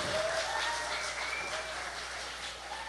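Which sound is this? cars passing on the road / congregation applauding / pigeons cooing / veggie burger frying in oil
congregation applauding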